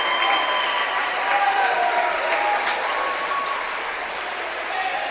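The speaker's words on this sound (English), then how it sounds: "Hopefully they give him another cheer when he walks across the mat here." A gym crowd at a high school wrestling meet between Wawasee and Elkhart Memorial cheers and claps for a wrestler walking across the mat, a sustained loud wash of applause with whoops that eases slightly toward the end.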